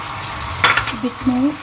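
Cornflour dissolved in water being stirred into Chicken Manchurian as it cooks, giving a brief burst of sizzling and stirring, moderately close, with a few words spoken over it.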